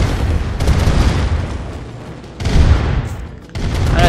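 Explosions of buildings being destroyed in the real-time strategy game Command and Conquer Red Alert, a dense, continuous barrage of loud booms and bursts with two heavier surges, no talk.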